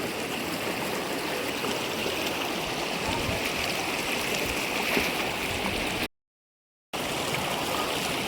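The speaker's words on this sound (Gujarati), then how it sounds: "આ જો પાણી કેટલું આવે જો ને," Steady broadband rush of stream water flowing around a person wading knee-deep on a forest trek near Waghai, continuous and close throughout with no talk.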